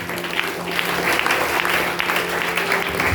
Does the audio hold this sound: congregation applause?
yes